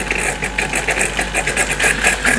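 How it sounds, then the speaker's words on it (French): A Bosch Tassimo coffee machine running a descaling cycle, giving off a steady, loud, rhythmic pumping buzz with a constant low hum underneath, close by and without speech. "C'est maintenant que je me décide à faire le détartrage de la machine."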